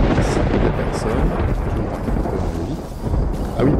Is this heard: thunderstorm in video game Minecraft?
yes